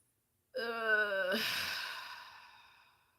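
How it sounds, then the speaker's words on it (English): One big human yawn, a rising voiced stretch that breaks into a long fading breathy exhale, heard alone and fairly quiet. "big yawn."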